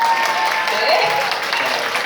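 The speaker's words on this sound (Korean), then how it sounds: "동의하시면 박수." An audience at a public talk applauds, a dense, steady burst of clapping at even loudness for about two seconds.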